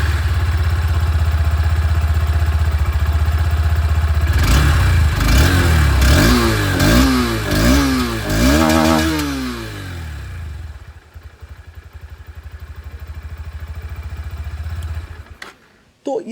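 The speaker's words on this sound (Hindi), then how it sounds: "मैं NX से ही इसकी जो आवाज़ है वो मैं आप लोग को सुना देता हूँ" Honda NX200 motorcycle engine and exhaust, heard up close. A rough idle gives way to a series of sharp revs that climb and fall repeatedly. The engine then settles back to a steady idle, with a faint voice in the background.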